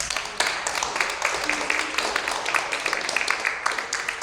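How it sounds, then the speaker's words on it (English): Audience clapping after an acknowledgment at a Volleyball Hall of Fame ceremony in Puerto Rico, a steady dense patter of many hands held at even loudness throughout, with no voices over it. "Please give him a hand of applause"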